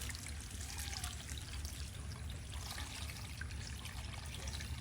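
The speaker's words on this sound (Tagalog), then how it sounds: "ilagay po natin ang ating sariwang gata" Fresh coconut milk pours into a cooking pot in a soft, continuous trickling stream that stays steady and fairly quiet for a few seconds, with no talking.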